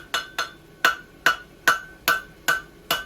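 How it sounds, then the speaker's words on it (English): Hammer striking a steel bar for a forged Euro bar, eight sharp ringing metallic blows in an uneven rhythm, close and loud with brief ringing decay between hits. "I'm not going to forge on it too much yet."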